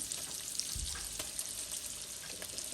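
Butter and mayonnaise sizzle in a pan on a stovetop over medium-low heat, giving a steady, close hiss with a soft low bump early on and no talking.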